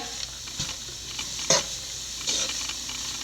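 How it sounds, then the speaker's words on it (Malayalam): Papaya thoran with curry leaves being stirred and mixed in a pan, with soft scraping strokes and light clicks over a faint steady sizzle, close and fairly quiet. "ഒന്നുകൂടെ നല്ലപോലെ കൂട്ടി യോജിപ്പിക്കുക"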